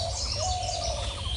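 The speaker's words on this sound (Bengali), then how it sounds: "পাখির বাসা, দোয়েল পাখি।" Oriental magpie-robin (doel) chicks at their nest make faint, thin chirps and a short high call over a low, steady background rumble.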